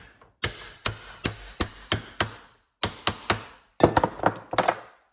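A part is hammered onto a John Deere lawn tractor mower deck spindle: a run of about fifteen sharp, ringing metal blows in uneven bursts, close and loud, with brief pauses between groups.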